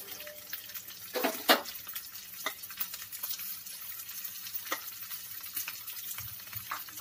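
Ginger and peas frying in a pan for namkin simui, a steady soft sizzle with a few louder crackling bursts and light stirring scrapes throughout, close and moderately quiet, with no talking.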